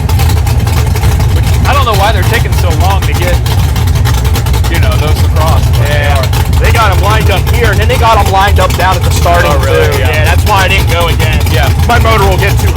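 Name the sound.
car engine idling while waiting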